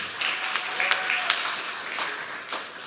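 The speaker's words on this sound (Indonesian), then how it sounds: "Tepuk tangan buat Bank BJB" Audience applause fills a stand-up comedy competition grand final, a dense, steady wash of clapping at moderate loudness with a few sharper claps standing out, lasting about three seconds.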